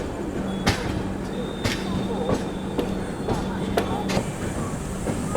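The 12398 New Delhi–Gaya Mahabodhi Express rolls into a station with rhythmic clickety-clack over the rail joints and a steady low rumble, and faint voices may be present.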